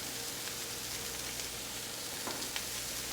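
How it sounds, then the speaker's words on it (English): Peppers and onions sizzle in a cast iron skillet amid steak fajita drippings, a dense, even crackling fry heard up close with no speech. "Our peppers and onions are deglazing all the beautiful drippings on this cast iron skillet."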